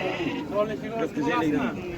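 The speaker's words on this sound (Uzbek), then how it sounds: "Echkilar." Goats at the Shofirkon livestock market bleat close by, with several wavering, nasal cries following one another quickly in a short burst.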